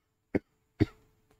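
Two short, close coughs a moment apart from someone who has just choked on saliva, the second slightly longer with a raspy tail, in an otherwise quiet room.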